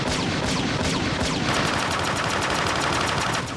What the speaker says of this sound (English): Those minicons are firing at us.